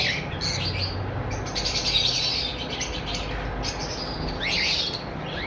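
Breeder pairs of pet birds in a bird shop chirp and tweet repeatedly, bright high calls in clusters over a steady background hum.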